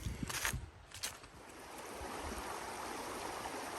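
A creek flows in steady broadband wash on a forest hike near Bradley Falls in Saluda, North Carolina, with a few splashy footsteps or sloshes early on before the even rushing continues alone.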